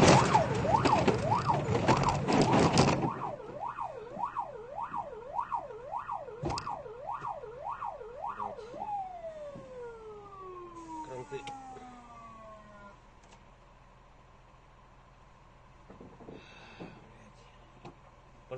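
A fire engine arriving at a car crash scene in Yekaterinburg wails with a loud, rapidly cycling yelp siren that slows into long falling whoops and fades, following a burst of broadband noise, with brief mechanical clanks.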